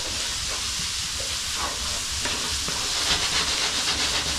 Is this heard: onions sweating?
yes